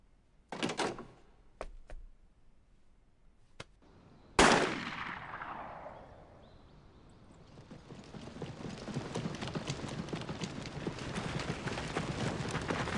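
Gunshots ring out in a TV drama scene, a few sharp isolated cracks followed by one loud blast that decays into a long rumbling tail, then a sustained noisy wash of action sounds.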